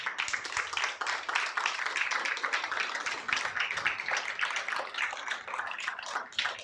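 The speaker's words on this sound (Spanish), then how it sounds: "Alguien dele un aplauso fuerte al Señor." A church congregation claps loudly and continuously for the Lord during a sermon, a dense, sustained roar of many hands close by with no pause.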